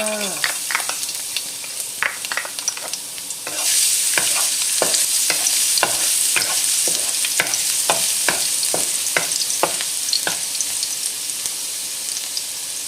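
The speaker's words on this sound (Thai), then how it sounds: "น้ำมัน ก็ ใส่กระเทียมลงผัดให้หอมค่ะ" Garlic stir-frying in a little oil in a pan: steady bright sizzle with repeated scraping stirs of a spatula, close and continuous throughout.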